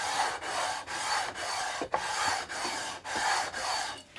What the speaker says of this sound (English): combination of fret leveling file and fret leveling beam, it's the best pair of tools that one could have